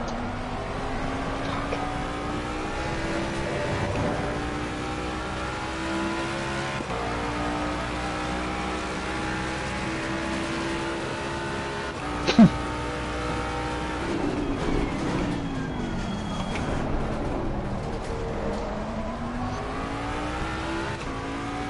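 A GT3 race car engine in a racing video game at Hungaroring drones steadily and loud, revving up and down through gear changes with one brief sharp knock midway, no voices.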